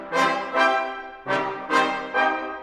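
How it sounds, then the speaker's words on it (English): CineBrass PRO full brass ensemble sounding major chords in short, punchy stabs, five bright swelling hits spaced about half a second apart, close and loud with no voices. "This is the full brass Ensemble high chords."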